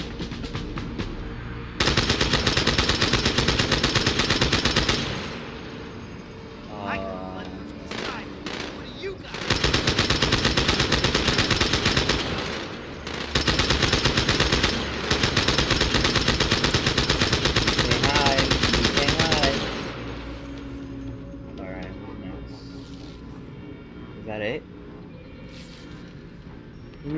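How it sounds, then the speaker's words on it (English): Rapid bursts from a turret-mounted machine gun in Halo 2, the video game: long, loud sustained volleys separated by short pauses, with a player talking and game sounds in the gaps. "Oh, I need to get on this turret."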